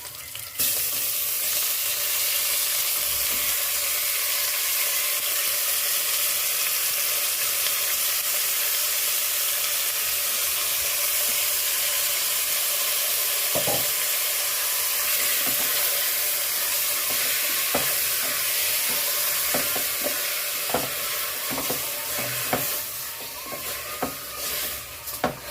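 Mutton frying in a pan while being stirred, a steady close sizzle and hiss running throughout with occasional scrapes and clinks of the stirring utensil, no talking.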